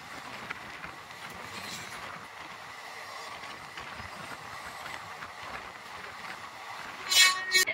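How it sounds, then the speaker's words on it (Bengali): The Howrah Intercity Express runs along the rails with a steady rumble and faint rhythmic clatter from the wheels, ending in a brief, sharp high-pitched squeal. "Howrah intercity express."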